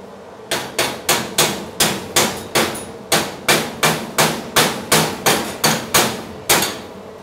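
A hammer chips slag off a fresh weld bead with about fifteen evenly spaced, sharp metallic strikes, close and loud, steady rhythm and no talking.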